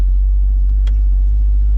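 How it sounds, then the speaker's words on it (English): A big-block 8.1L C8 Corvette engine idles with a steady, loud low rumble throughout, a continuous deep drone with no clear revving. "First drive in a big block C8."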